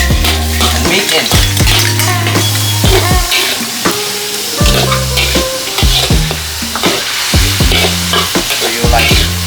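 Meat and garlic are stir-fried in a pan for a Khmer dish with a loud, steady sizzle, broken by repeated scraping and clanking of a utensil against the pan.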